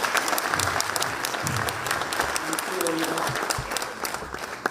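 Audience applause at a university ceremony, steady crowd clapping heard at a moderate distance, with faint low murmurs and a voice briefly present beneath the continuous patter.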